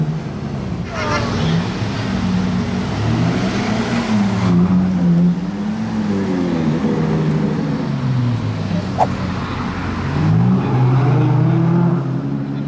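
Valets moving two supercars, one with a Ferrari V12 engine, outside a restaurant: close, loud engine revving that rises and falls, with a low idling rumble between blips.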